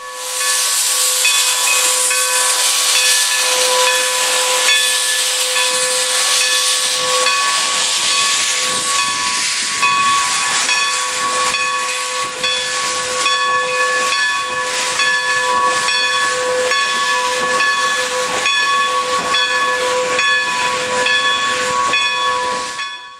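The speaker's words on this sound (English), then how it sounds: "Powering the regularly scheduled excursions is former Great Western 210 Decapod number 90, seen here making its way towards the station to pick up its consist" Former Great Western 210 Decapod steam locomotive number 90 on the Strasburg Rail Road in Lancaster County, making its way toward the station: a loud, continuous hiss of steam with sustained whistle-like tones and faint rail clatter, steady throughout with no voices.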